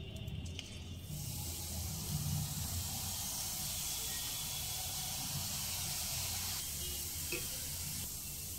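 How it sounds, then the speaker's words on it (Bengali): Thin gram-flour bhujia strands fry in hot oil for homemade chanachur, giving a steady close hiss and sizzle that runs on evenly without a break. "এবার সরু ভুজিয়াগুলো ভেজে নেব।"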